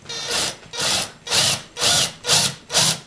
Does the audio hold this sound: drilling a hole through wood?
yes